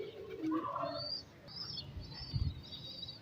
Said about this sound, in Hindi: बड़े शौक से दोस्तों कबूतर पानी पी रहे हैं